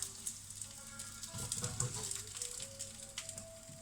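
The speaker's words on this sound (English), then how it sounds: "you want to hear that sizzle when it goes in" Food sizzles and crackles in a hot pan, a continuous fizzing hiss with scattered pops, fairly close, plus a faint steady hum underneath.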